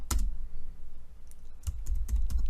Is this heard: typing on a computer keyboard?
yes